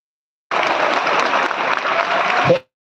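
Crowd clapping at a Maratha rally at Azad Maidan, Mumbai: a dense, steady burst of applause from many hands lasting about two seconds, fairly loud and close, then cutting off abruptly.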